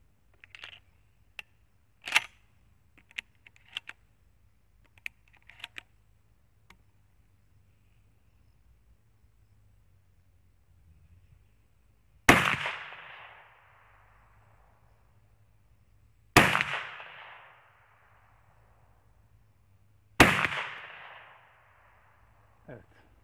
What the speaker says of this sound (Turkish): Üç atış daha yapıyoruz.